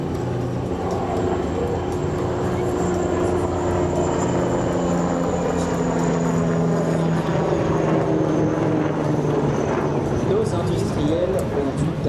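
Steady rotor and engine drone of a helicopter flying nearby, loud and continuous throughout with a low thrumming beat.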